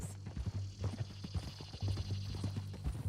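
A horse's hooves clip-clop at a steady walking pace in the video game Red Dead Redemption 2, with regular distinct hoofbeats over low ambient music and no speech.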